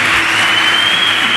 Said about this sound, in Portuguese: Vamos dar uma salva de palmas bem forte para esses queridos